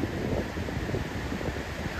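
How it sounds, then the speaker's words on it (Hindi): A river flows beneath a swaying pedestrian suspension bridge, giving a steady, even broadband rush of water mixed with wind noise, with no talking. "नीचे में एक नदी बह रही है"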